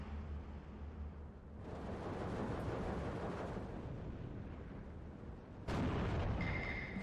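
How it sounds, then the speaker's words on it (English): Artillery bombardment in the Steel Division 2 wargame, a dense continuous rumble of distant shelling and booms with a sharp louder blast near the end, no talk. "I'm just going to bombard the crap out of that."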